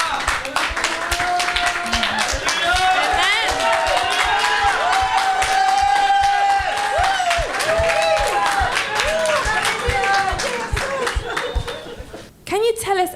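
Congregation at a church healing service clapping in praise, dense rhythmic hand claps mixed with crowd voices and laughter, loud and continuous, fading briefly near the end.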